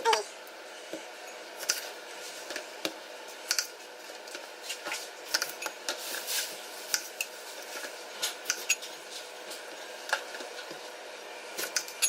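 Raw shrimp being cut in half for aguachiles verdes gives a run of quiet, close knife clicks and soft squishy slices, irregularly spaced over a low background hiss.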